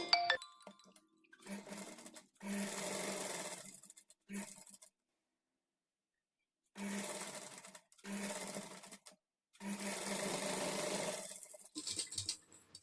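Sewing machine stitching a princess-cut blouse, running in several bursts of steady whirring separated by short pauses and one longer gap, close and fairly loud.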